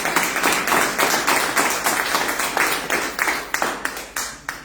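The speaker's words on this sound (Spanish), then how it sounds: "Eso merece un aplauso." A church congregation applauding during a worship service, clapping steadily and close by in a rhythmic patter that loosens toward the end.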